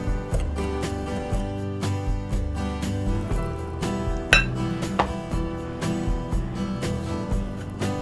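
Apple fritter batter is stirred by hand in a bowl, with no mixer, giving a steady run of clinks, taps and scrapes of a utensil against the bowl and one sharper knock midway.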